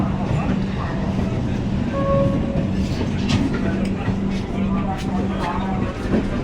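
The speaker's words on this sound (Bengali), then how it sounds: "ট্রেন ছেড়ে দিয়েছে" Howrah-Amritsar Mail on LHB coaches pulls out of Howrah, heard as a steady low rumble and rhythmic rail clatter from inside the coach, with people talking over it.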